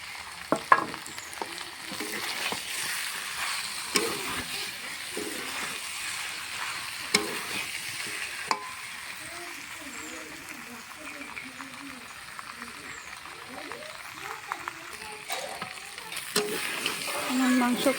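Spicy chicken frying with fried potatoes added, a steady close sizzle with periodic stirring clanks and scrapes, and a voice talking over it at times.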